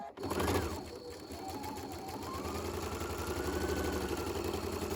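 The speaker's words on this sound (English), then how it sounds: "I'm going to sew this at a 1/4 inch seam here" A sewing machine runs steadily, stitching a quarter-inch French seam with the wrong sides of the fabric together, its motor hum and fast needle chatter close and continuous after a brief start, with a voice speaking over it.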